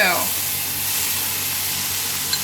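Onions dropped into hot oil in a pot for beef carbonnade, a burst of sizzle at the start that settles into a steady, close hiss of frying.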